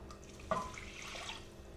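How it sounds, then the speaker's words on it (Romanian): Water is poured into a pan of melted butter and flour roux for a creamy mushroom sauce, giving one quiet splash followed by a soft, brief trickle in a calm kitchen. "Apoi punem apa."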